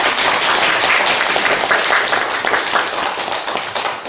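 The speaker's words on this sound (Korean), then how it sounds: "하나님께 영광을 올려드리고 또 힘내시라고 하는 박수 한번 주십시오." A congregation at a Korean church service breaks into a steady round of applause, dense and continuous for several seconds, fairly loud and unbroken by any voices.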